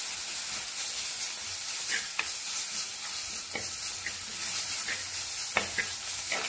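Onions frying in a pan with turmeric stirred in, a steady close sizzle with repeated scraping strokes of stirring throughout.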